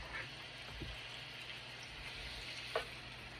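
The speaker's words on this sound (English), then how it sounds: "We're going to sear them on all sides." Oxtails sear in a hot pan, giving a soft continuous sizzle with faint crackles and a couple of brief knocks from the pan, quiet and unbroken, with no talking.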